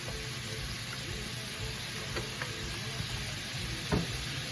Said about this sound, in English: I'm gonna throw these onions and garlic in there.